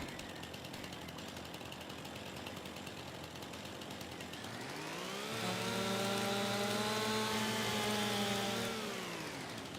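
A chainsaw in Farming Simulator 25 revs up to cut a tree, the engine climbing from a rough idle into a loud, steady high-pitched whine that holds for several seconds before easing slightly.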